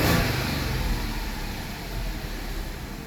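An Audi car engine held at a steady raised RPM, a continuous low droning hum with slight swells in level, close and unbroken, with no voices.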